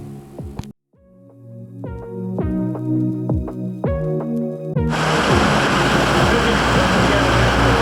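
Heavy rain hammers down in a dense, loud roar that starts suddenly partway through, after a stretch of repeated low tonal thuds and knocks.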